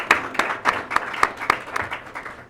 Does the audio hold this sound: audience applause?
yes